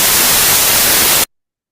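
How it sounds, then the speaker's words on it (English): Loud, even hiss of broadband static, the estimated noise output from an adaptive Wiener filter, plays steadily for just over a second and then cuts off abruptly into silence. "So here is our estimated noise output yn."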